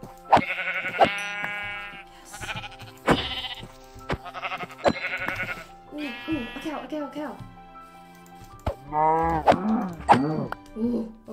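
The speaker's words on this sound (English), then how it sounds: "Oh, there's sheep." Sheep in the Minecraft video game bleat repeatedly, several loud nasal baas close by, spaced out with short pauses between calls.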